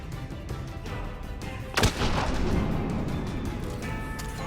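A single heavy gunshot from the Blood Pack gun in Mass Effect 3, a sharp loud blast with a rumbling tail that rises out of a steady game background hum.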